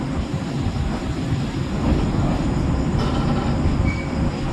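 The Digha–Puri Samudra Kanya Express at Puri station, a loud continuous rumble of wheels and rolling carriages with a rhythmic clatter and faint squeal, no voices.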